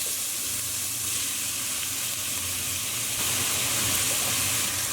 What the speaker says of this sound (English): to this we're going to add our onions straight in